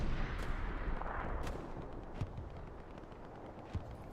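A precision artillery strike lands in the World War II shooter Hell Let Loose, producing a dense rumbling roar broken by a few muffled thuds and booms at middling distance.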